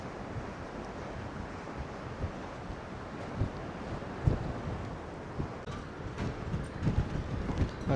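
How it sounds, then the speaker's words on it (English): Steady wind roaring across the open sea on the upper deck of a cruise ship near Wellington, New Zealand, a continuous broadband rush with occasional louder gusts buffeting the microphone and no voices. "The wind is definitely rising."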